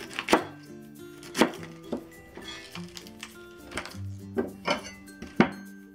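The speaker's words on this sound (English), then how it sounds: "Let's cut the half cabbage." A knife chops through half a cabbage on a board, several sharp separate thunks at uneven intervals, close and clear with no talking.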